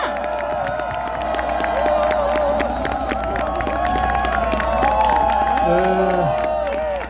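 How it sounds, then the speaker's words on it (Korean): Crowd at an outdoor Democratic Party campaign rally at Bupyeong Station cheers and applauds to welcome a former prime minister, a steady loud roar of clapping, shouts and whoops lasting throughout. "큰 박수와 함성으로 모셔보겠습니다"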